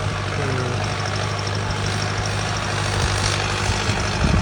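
A farm tractor's heavy diesel engine idles close by, a loud, steady low rumble with no break.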